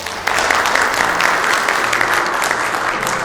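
A conference audience breaks into steady, dense applause welcoming a speaker on stage, a loud, continuous wash of clapping from a crowd indoors.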